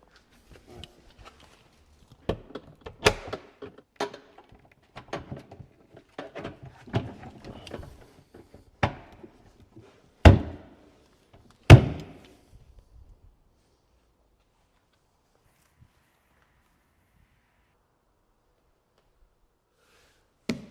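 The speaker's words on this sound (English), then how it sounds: "And snap on our doors." A series of sharp plastic clicks and snaps as cabinet doors are snapped on, irregular and close, tapering off into near silence for the last several seconds.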